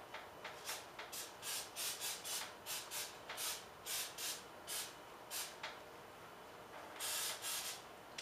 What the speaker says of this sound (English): we're going to lightly coat it with some non-stick